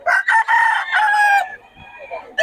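A Pumpkin Sweater gamefowl rooster crows loud and close in a few choppy bursts, followed by softer clucking and a final short burst at a market in Bocaue.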